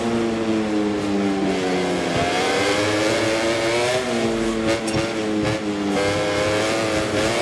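Motorcycle engine in the MotoGP 24 racing game, revving hard and continuously with rising and falling pitch as it accelerates and shifts, loud and close throughout.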